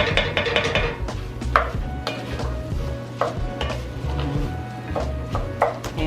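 A spoon works through rice and vegetables in a cooking pot, giving repeated close scraping clinks and knocks in an uneven rhythm with no voices.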